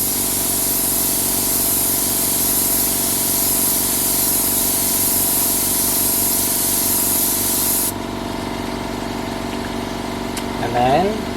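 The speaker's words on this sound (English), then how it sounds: "So the way I do that is just pulling my airbrush away." An airbrush sprays paint on a portrait, a loud steady close hiss over a faint compressor hum that drops away after several seconds, leaving quieter background sound with a brief voice near the end.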